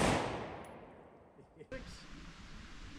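A 5.56 rifle fires outdoors: a loud report fades away over the first second and a half, then a second sharp, close shot cracks in and rings out.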